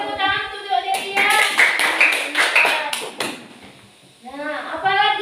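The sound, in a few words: children clapping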